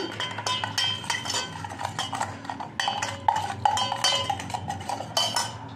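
A utensil stirring milk and eggs for egg pickle in a bowl clinks and scrapes in quick, irregular metallic taps and clatters, close and continuous, with no talking.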